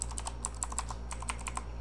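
Fast, clacky typing on a Redragon Mitra K551 mechanical gaming keyboard, with sharp individual keystrokes in quick irregular bursts, close and clear over a low steady hum.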